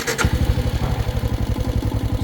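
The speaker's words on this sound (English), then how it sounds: "So now I'm going to crank up the engine." A Royal Enfield Scram 440 motorcycle engine cranks and fires, then settles into a loud, close, steady thumping idle with a regular pulsing beat.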